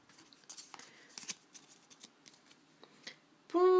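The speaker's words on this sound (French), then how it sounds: "Avant-dernier booster, si j'arrive à l'ouvrir." Crinkly foil wrapper of a Pokémon trading card booster pack being torn open, a string of sharp scattered crackles and rips, close and moderately loud, ending in a brief louder burst.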